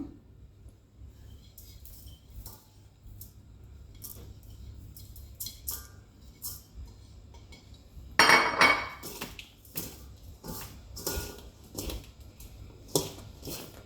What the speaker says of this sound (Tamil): இப்போ நாங்கள் இதை தேங்காய் பூ போட்டு கலக்க போகிறோம்